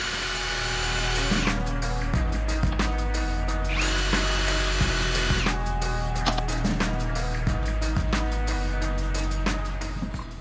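A power drill undoes bolts on a boat pump, whirring in repeated bursts that rise and stop, loud and close throughout.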